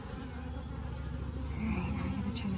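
Bees buzzing densely around an open 24-frame Layens horizontal hive while frames are added, a close, steady, loud drone with individual bees passing near.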